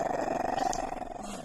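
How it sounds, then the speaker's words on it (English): A small, jealous dog growls continuously and close, a low rumbling snarl that pulses steadily throughout without pause. "The little dog is very jealous."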